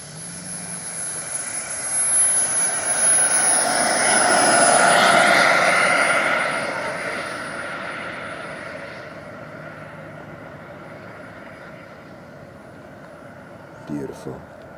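A Bell P-59 Airacomet jet passes overhead, its engine roar swelling to a peak and then fading away into the distance, with a steady whine underneath.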